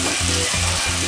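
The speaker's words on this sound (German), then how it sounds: "So, es brutzelt und brodelt." Vegetables frying and sizzling in a soup pot while a pumpkin mango soup is being cooked, a steady close crackling hiss with soft stirring scrapes, no voices.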